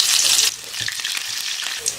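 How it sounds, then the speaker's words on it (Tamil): Mustard seeds hit hot oil in a kadai with a loud burst of crackling sizzle that eases after half a second into a quieter, spitting fry with scattered pops, close up and without speech. "எண்ணெய் காஞ்சிடுச்சு, கடுகு போட்டுக்கலாம்."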